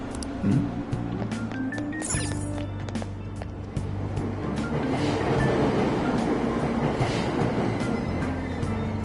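A subway train departs a station in Persona 5. Chime-like tones ring early, then a steady rumble of rolling wheels and carriage noise builds and holds at moderate loudness.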